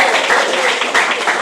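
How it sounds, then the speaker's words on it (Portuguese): Church congregation applauding during a worship service, a loud, dense, steady wash of clapping with voices mixed in underneath. "Mais palmas, Jesus"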